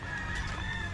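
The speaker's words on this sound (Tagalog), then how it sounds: "Madaming manok." Chickens in a village yard, brief clucking and a rooster-like call heard over outdoor background noise, fairly close and moderately loud.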